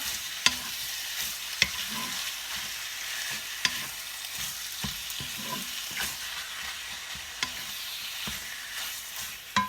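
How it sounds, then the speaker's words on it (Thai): Ground shrimp filling for Thai chive dumplings is stir-fried in a pan over medium heat, giving a continuous close sizzle punctuated by regular sharp clacks of the spatula scraping and tossing. "ผัดให้หอมหอมเลยค่ะพี่น้องค่ะ ก่อนที่เราจะใส่เครื่องเนาะ"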